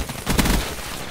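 Rapid submachine gun fire from the video game Call of Duty Black Ops III, a single short loud burst of closely spaced shots lasting under a second, with no talk over it.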